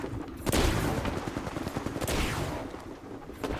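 Sustained gunfire from the Apex Legends video game, with dense rapid bursts and a few sharper loud shots cutting through a continuous roar of battle, no voices.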